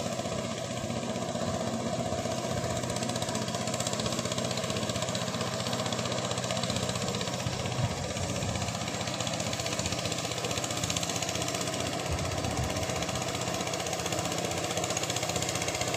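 A ride-on tractor engine chugs steadily while plowing and tilling a farm field, a constant mid-pitched mechanical drone with a faint knocking vibration, running unbroken and fairly close for the whole stretch without talking.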